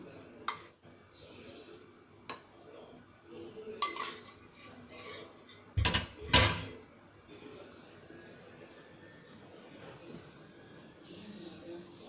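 Ingredients for amla chutney sautéed in a pan, faint stirring and scraping with a few louder metallic clatters of a spoon against the pan partway through, a voice speaking at times.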